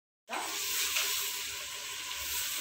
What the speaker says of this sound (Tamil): இப்போ வெங்காயம் வதங்கட்டும் பார்க்கலாம்.